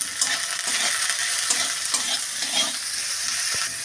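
Capsicum sizzles in hot oil in a pan with a little salt, making a loud, steady hiss and crackle, while a spatula scrapes and stirs in soft repeated strokes up close.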